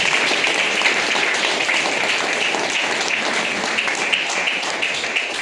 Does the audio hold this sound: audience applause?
yes